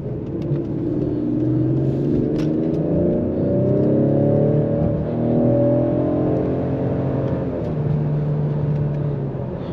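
Cabin drone of a 2021 Ford Explorer ST AWD with high-performance brake package and ten-speed gearbox, driven through turns: a loud, steady engine rumble that rises and falls as the revs shift, with no talk.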